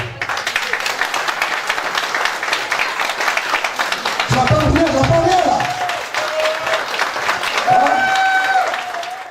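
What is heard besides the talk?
wedding guests applauding the bride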